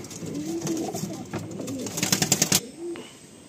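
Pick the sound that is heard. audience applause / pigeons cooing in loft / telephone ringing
pigeons cooing in loft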